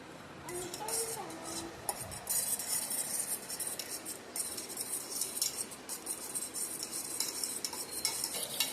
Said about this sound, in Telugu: ఇప్పుడు ఫ్రెండ్స్ ఇక మొత్తం కలిపేసా, కొంచెం కలపాలి.